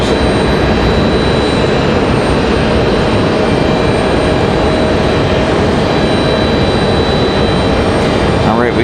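A jet airliner at Raleigh-Durham International Airport produces a loud, steady engine roar that fills the whole stretch without letting up.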